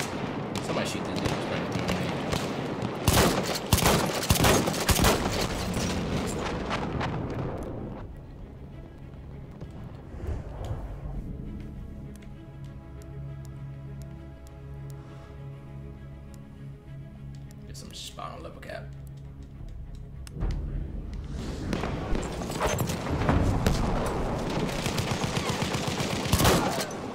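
Battlefield 1 multiplayer gunfire on PS4, loud bursts of shots and explosions at the start and end with a quieter stretch between, mixed with someone talking excitedly over the action.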